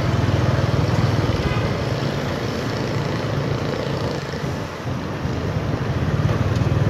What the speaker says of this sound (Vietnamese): Trời Sài Gòn gió nhẹ